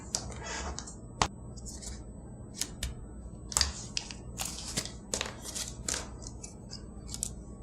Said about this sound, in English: I like to do a little bit of the paper piercing around the edges